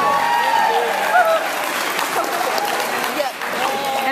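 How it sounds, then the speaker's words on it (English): Wedding guests applaud at a reception, a loud, continuous burst of clapping from a crowd with some voices and cheers mixed in throughout. "let's have a round of applause for Jamee and her father"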